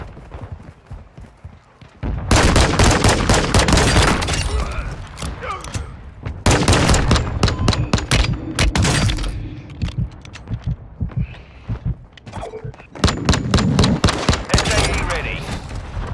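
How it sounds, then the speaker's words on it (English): Mortar strike in a military shooter video game, with heavy bursts of rapid explosive gunfire and booming impacts coming in three loud waves separated by quieter gaps with faint rumble and clatter. "Mortar strike inbound now."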